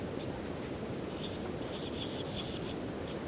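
Someone writing the word football in a grammar lesson: light, scratchy pen strokes in short bursts over a constant background hiss, quiet and close.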